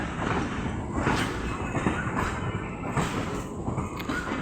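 Steady rumbling rattle of a moving train heard from inside a carriage, broadband and continuous with faint rhythmic clatter underneath.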